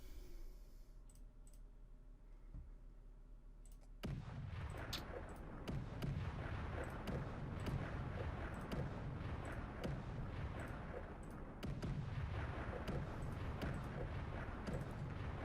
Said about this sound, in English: they got an air bombardment